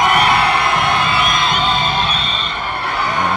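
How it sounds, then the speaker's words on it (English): A basketball crowd at a Toundra Montréal versus Express Windsor game cheers, yells and whoops after a tough off-balance shot, a dense, loud, steady roar holding for several seconds. "And crowd's going crazy"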